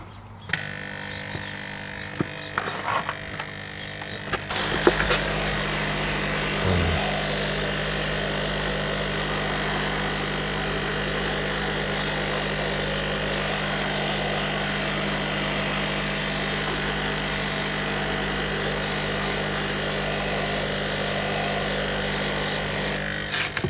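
Numatic George vacuum cleaner extracting cooking oil from carpet: after a few seconds of handling knocks, the motor starts up and drones steadily and loudly, with a sucking, slurping wash continuing close by and no speech.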